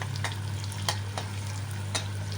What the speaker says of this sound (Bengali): হলুদ আর লবণ দিয়ে আলুটা ভাজা ভাজা হচ্ছে।